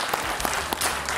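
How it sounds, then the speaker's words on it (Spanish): A studio audience on a television debate program applauds a senator, with brisk, close clapping and a few sharper individual claps standing out. "Un aplauso para el senador del PNV"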